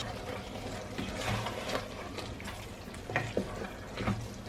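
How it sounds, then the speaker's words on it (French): Rinsed corn goes into chili con carne cooking in a pan, and a steady sizzle and bubbling frying sound runs throughout with soft stirring scrapes, close and fairly quiet, with no one speaking. "Ensuite je vais venir ajouter mon maïs que j'ai déjà rincé."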